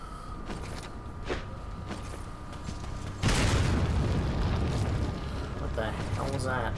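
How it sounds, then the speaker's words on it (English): A grenade blast in the Resident Evil 4 video game hits suddenly partway through, a loud broadband boom that stays dense and roaring after the impact, layered over game sounds and a voice talking. "What the hell was that? Grenade."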